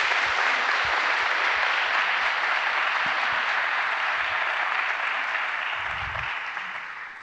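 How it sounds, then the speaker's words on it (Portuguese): An audience applauds a stage performance in a large venue. Broad, even clapping from a crowd holds steady, then begins to fade toward the end. "Uma salva de palmas a Ana Cecília Tavares."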